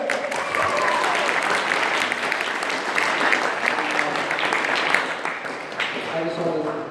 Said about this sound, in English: let's give Jojo a round of And applause